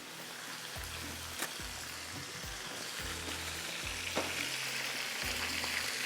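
Chicken pieces and onions fry in a pan with a steady, close sizzle, broken by repeated scraping and stirring strokes that fall at irregular intervals, with no voices over it.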